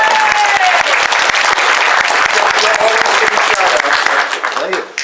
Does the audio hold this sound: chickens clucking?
no